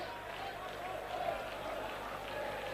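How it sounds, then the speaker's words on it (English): Football crowd noise in a stadium in Athens during a Chelsea match, a dense continuous roar of many voices under a commentator's talk. "Judging from the noise of the crowd, you'd think this match was taking place at Stamford Bridge"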